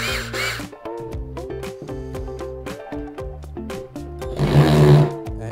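A cordless drill fitted with a small bit and running on a 3-amp battery whines in bursts that rise and fall in pitch with short pauses between them, ending in a louder, harsher stretch.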